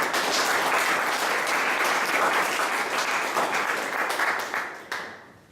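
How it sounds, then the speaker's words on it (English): An audience at a speech meeting gives a round of applause, a full, steady clatter of many hands that holds for several seconds before tapering off with a few last claps. "let's give him and Richard a round of applause"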